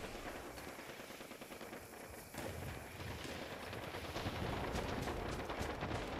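Rapid gunfire in the video game Fallout 76, fairly faint and steady, with dense overlapping shots and bursts running through the whole stretch and no talking.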